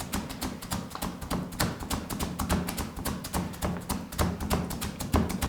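A cleaver minces pork chunks together with sliced ginger and scallion on a board, a dense, fast, steady rain of close, dull chopping thuds with no pause and no talking.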